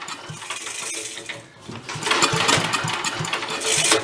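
A vintage Mite-e-Lite generator engine runs roughly and surges, a close sputtering small-engine drone that dips briefly, then picks up louder and uneven.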